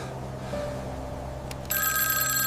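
A black rotary telephone rings with a bright electronic-sounding bell tone that starts abruptly and holds steady, loud and close, over a low humming background.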